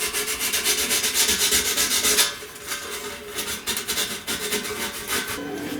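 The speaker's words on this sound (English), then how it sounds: "Just a little bit of sanding to put a little bit of a chamfer on that edge." Close rhythmic rasping strokes of sandpaper chamfering the edge of a tone hole on a 1917 H N White King baritone saxophone, fast steady scrubbing at first, then slower, separate rubs.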